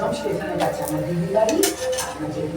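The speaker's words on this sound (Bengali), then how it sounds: "এখানেও দেখুন এরমভাবে প্রত্যেকটা পরোটা আমি লাল লাল করে ভেজে তুলছি।" Parathas frying in a pan, with utensil scrapes and clinks against the cookware over a soft sizzle while a voice talks throughout.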